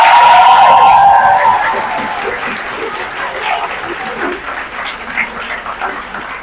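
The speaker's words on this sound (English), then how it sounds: "Can you all give a wonderful round of applause to all the speakers?" A student-versus-teacher debate audience at a medical university applauds the speakers, a loud burst of clapping that fades into scattered claps with some crowd murmur.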